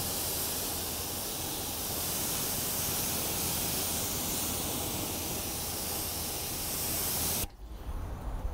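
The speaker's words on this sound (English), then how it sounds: "rinsing off this dirt and grime" Loud continuous hiss of a water spray rinsing dirt and grime off a tire, held close for about seven seconds before cutting off abruptly, leaving faint background rustle.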